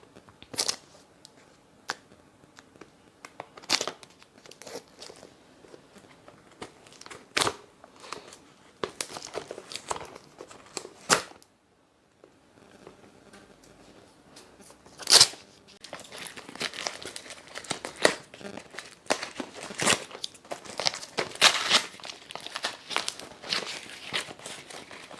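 A bleach facial kit being unboxed by hand, with crisp intermittent crinkling and tearing of plastic and paper packaging up close, a brief quiet pause midway, then denser rustling and ripping.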